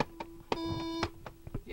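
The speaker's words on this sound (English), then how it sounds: "It's a beeping noise!" Steady electronic beeps, a sustained tone with harmonics breaking in and out, over faint background chatter and scattered clicks.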